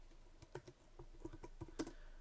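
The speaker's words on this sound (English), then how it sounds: "I'm going to type it in first" Clicky keystrokes on a computer keyboard as code is entered in an iOS programming lesson, a sparse, irregular run of close taps with a louder cluster near the end, no talking.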